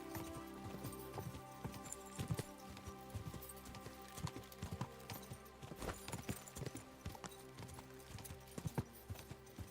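Horse hooves clip-clop in the video game Kingdom Come: Deliverance II, a steady, fairly quiet trot of hoofbeats over uneven ground with background game ambience.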